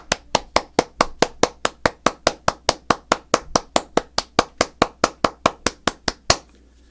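Hands clap a fast, steady beat, about twenty-five evenly spaced sharp claps in a row, close and clear with nothing else underneath, as a demonstration of a faster pulse in a steady-beat music lesson.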